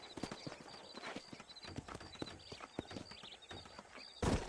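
Horses in the Red Dead Redemption video game, a close, uneven clip-clop of hooves on dry ground with a brief whinny and a louder thump at the end.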